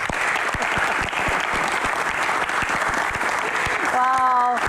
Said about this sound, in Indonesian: Tepuk tangan sekali lagi untuk Bapak